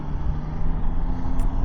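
A 2025 Triumph Tiger 800 Sport triple-cylinder engine running, heard as a steady low droning rumble with an even hum, close and continuous throughout the brief moment.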